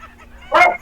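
A single short yipping bark from a dog, fairly close and loud, rising out of quiet background hum.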